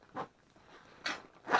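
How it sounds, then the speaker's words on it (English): A zipper on a cheap soldering kit bag is yanked shut in three quick, close rasping pulls with short pauses between them. "just yank on the zipper for all shall suffer"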